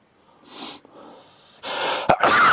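A man building a Ford GT model takes sharp, wheezy inhales and then lets out a loud, close sneeze burst at the end.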